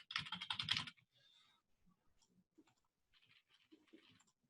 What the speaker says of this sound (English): Did I type anything?